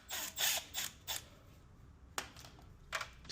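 Ratchet clicking while removing a 10 mm brake rotor bolt on a Tesla Model 3/Y: a few short bursts of metallic ticks, close and crisp, separated by brief pauses.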